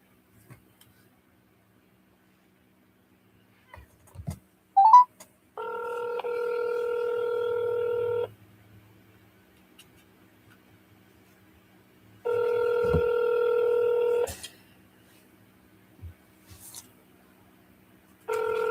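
Telephone call ringing out: two long, steady electronic ringback tones several seconds apart, quiet and close, with a few soft clicks and taps in between and no talking.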